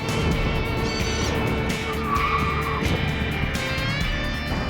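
Car tires squeal and skid in bursts while a vehicle with a broken drive shaft runs on a test track, engine droning steadily underneath.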